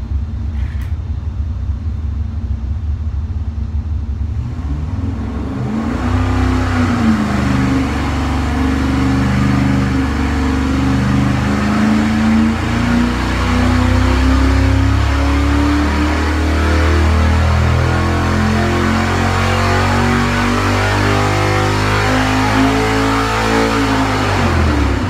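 A junkyard LS V8 engine starts up after its spark plugs have been indexed, then settles into a loud, rough idle that swells and eases as it is revved, close and alone for about twenty seconds.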